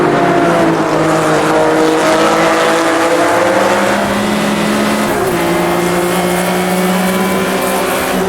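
AI race cars running in Automobilista 2, a packed sixty-car field roaring together at close range, engines revving steadily with occasional tire squeal, no voices.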